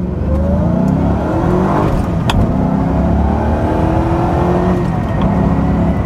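A 2006 Ford GT supercar accelerates hard with a loud, sustained engine roar that climbs in pitch through the revs, heard up close with no talking.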